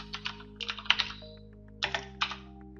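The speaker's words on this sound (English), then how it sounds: "I'm going to type in shutdown" Someone typing a command on a computer keyboard, two quick bursts of close keystrokes separated by a short pause.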